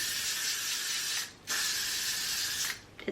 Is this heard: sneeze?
no